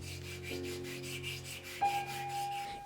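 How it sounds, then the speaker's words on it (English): A charcoal drawing stick is sharpened against sandpaper in quick, regular rubbing strokes, close and fairly quiet, with no voices. "Sharpen it with a piece of sandpaper."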